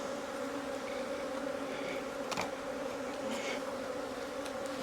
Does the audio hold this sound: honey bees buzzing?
yes